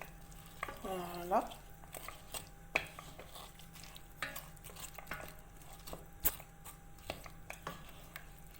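Vegetables for couscous stirred in a cooking pot, with irregular scraping clicks and soft clatter of a utensil against the pot over a faint steady sizzle, close and moderately quiet, with a brief spoken word partway through.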